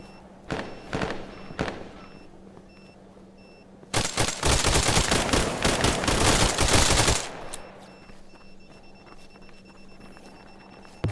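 Rapid bursts of gunfire in the VR game Tactical Assault VR, set in a forest factory, with a long sustained volley in the middle, loud and dense, preceded and followed by scattered single shots.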